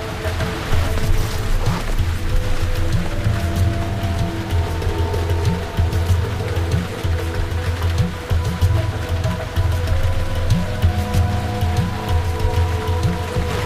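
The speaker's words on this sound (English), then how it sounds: "But the rain makes it hard to see anything." Steady rain hisses continuously alongside a low, constant engine drone, heard from inside the cockpit of a Korean Air airliner on final approach.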